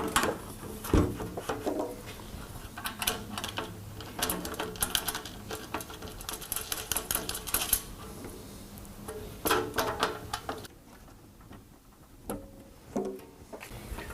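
Quarter-inch bolts are driven with an Allen wrench to install an Airaid intake filter adapter on a GMC Yukon, producing close, rapid metallic clicks and scraping ticks in bursts, then quieter sparse taps.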